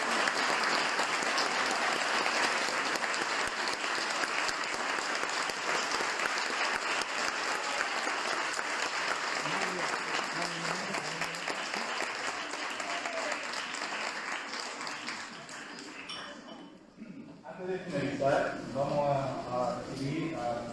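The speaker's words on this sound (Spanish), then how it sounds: "reciban el último aplauso." A standing audience at a school event applauds in a long, steady wash of clapping that gradually thins and fades toward the end, giving way to a brief lull and then faint sounds.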